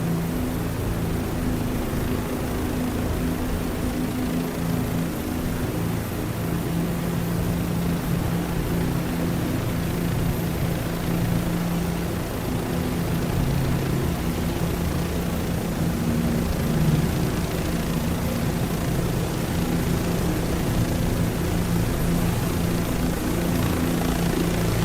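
Aircraft in Microsoft Flight Simulator flying over the Ukraine front lines, a steady droning engine hum with rotor-like throb holding at constant loudness throughout, with no talking.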